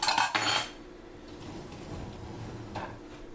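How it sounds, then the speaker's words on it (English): Tuna salad with about a teaspoon of mustard being stirred in a bowl with a utensil, starting with a loud burst of scraping and clinking that settles into quieter, steady scraping and a soft clink near the end. "Okay, and you just go ahead and stir it up."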